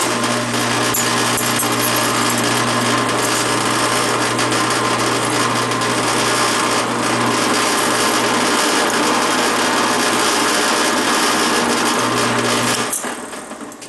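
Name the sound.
drilling a knife blade with a carbide drill bit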